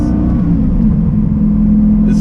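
A 2008 Lamborghini Gallardo fitted with an aftermarket exhaust gives a steady, loud low drone from inside the car, its engine humming evenly with only slight shifts in pitch and no clear revving.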